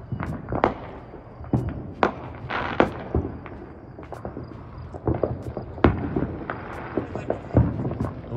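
Fireworks bang and crackle repeatedly at irregular intervals, some sharp and close, others muffled and distant, with faint voices in the background.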